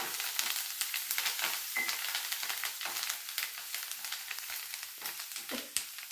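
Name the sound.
chopped green chillies and curry leaves sizzling in oil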